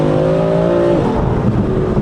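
A modified BMW M4 accelerates hard, its loud, close engine note climbing in steady harmonic tones before dropping at a gear change, with a rushing intake whoosh layered throughout; no one speaks.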